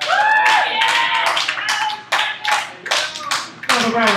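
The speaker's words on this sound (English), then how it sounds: "Another round of applause for Nick the Dick Country" Applause at a dive bar comedy show, with dense bursts of hand claps that swell and dip as a crowd cheers, rising again near the end; a voice calls out over it briefly.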